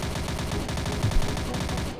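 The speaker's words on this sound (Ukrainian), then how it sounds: "І в мене є МП5. Так, і мені потрібно стріляти, правильно?" MP5 gunfire in the Roblox video game rattles in rapid automatic bursts throughout, loud and close, with no talk over the shots.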